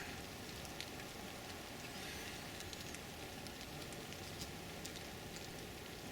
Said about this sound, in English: Cool, rainy weather.